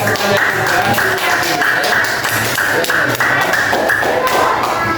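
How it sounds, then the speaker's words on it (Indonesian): A sixth-grade Islamic primary school class claps for a classmate, a steady stream of fairly loud overlapping hand claps and taps filling the room with no clear speech. "Ayo tepuk tangan untuk Naura ya."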